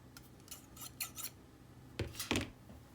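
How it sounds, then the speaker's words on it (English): Several crisp snips of scissors cutting, quick irregular snaps close by, the last few sharper and louder, in an otherwise quiet room. "scissors,"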